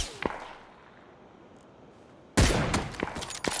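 PUBG gunfire cracks out in a sudden loud burst after a quiet stretch, with a few sharp reports and ringing echo, preceded by one faint early shot.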